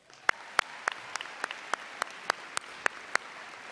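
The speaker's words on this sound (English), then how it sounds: "That's worth the applause." An audience at a school senior academic awards ceremony gives scattered applause, a thin, sparse run of distinct claps from a modest crowd in a hall.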